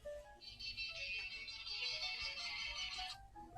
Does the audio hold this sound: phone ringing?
yes